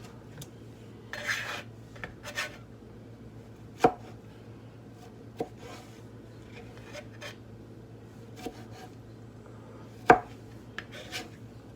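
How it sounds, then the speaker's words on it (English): Tomatoes being cut into cubes with a knife for pico de gallo, a series of irregular crisp knife taps on a cutting board against a quiet room, some louder chops standing out; no talking. "So I'm gonna try to cut these tomatoes in the same size cubes as the onions and the peppers."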